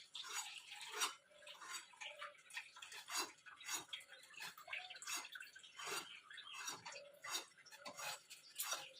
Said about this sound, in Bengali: আর এই যে ডালটা ধুয়ে নিচ্ছি এখন